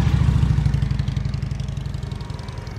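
Motorcycle engine chugging at low RPM during slow-speed practice riding, a steady close, loud throb of rapid low firing pulses that eases slightly toward the end, with no talk.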